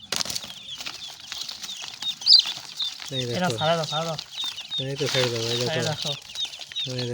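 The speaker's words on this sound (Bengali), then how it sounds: "সবুজ ভাইটি মুরগি নিয়ে আইছে" Chickens cluck and squawk close by in an ongoing chatter, with a burst of wing flapping, while people talk over the noise in several stretches.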